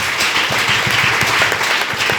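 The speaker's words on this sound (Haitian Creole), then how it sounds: "Battez au bravo pour le Seigneur" Church congregation clapping for the Lord during a service, a steady run of close, rhythmic hand claps in a reverberant room.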